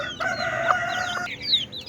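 Seventeen-day-old chickens cluck and call close by, a busy overlapping run of short squawks and drawn-out notes over steady background hiss.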